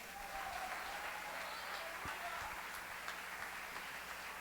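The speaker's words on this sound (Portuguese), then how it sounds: "Aplauda o Senhor." Church congregation applauding during a worship service, a dense, sustained round of clapping heard from within the room, with a few sharper claps standing out.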